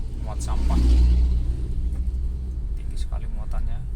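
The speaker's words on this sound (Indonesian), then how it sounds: "wah, ini truk muat sampah" A garbage truck piled high with a tall load rumbles past in the opposite lane on a busy road near Bekasi, a low swelling roar that peaks and fades as it passes, with faint voices underneath.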